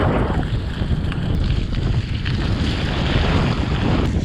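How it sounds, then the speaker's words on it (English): Heavy pouring rain and gusting wind on a muddy gravel bike ride, a loud continuous roar of rain and buffeting wind noise with no breaks. "It's been pouring like this for the last good 15 minutes."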